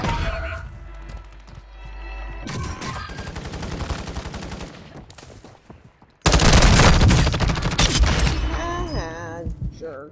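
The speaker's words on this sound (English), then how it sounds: "Somebody's shooting at me too." Call of Duty gunfire, with rapid bursts of automatic fire and single shots, then a loud, dense barrage of shooting and impacts in the second half, close and intense.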